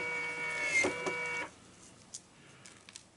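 Tobacco shredding machine whirring with a mechanical buzz for about a second and a half, then cutting out and leaving faint clicks and small knocks in a quiet room.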